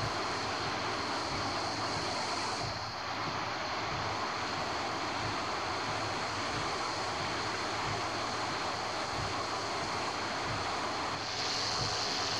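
Steady broadband engine drone of a light aircraft flying on a single engine in the X-Plane 10 flight simulator, continuous and even throughout with a faint whine, no talking.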